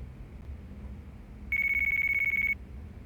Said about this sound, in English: It's my phone this time.